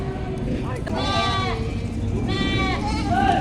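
Two wavering bleats from a goat, one early and one later, ring out over a steady low background hum.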